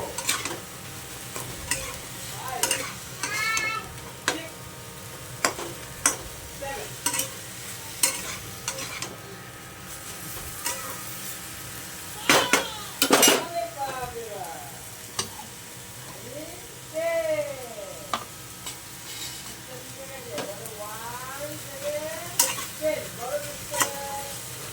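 A spatula stirs and scrapes a vegetarian Bengali banana flower curry in a frying pan, giving repeated sharp scraping strokes over a low, steady sizzle, with faint chirping sounds in the background.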